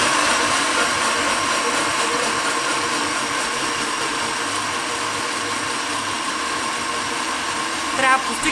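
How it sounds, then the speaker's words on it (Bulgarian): A blender purées eggs and bananas into pancake batter, giving a steady, loud, unbroken whir that runs the whole time with almost no change in pitch or level. "Ето, яйцата и бананите влизат в блендера."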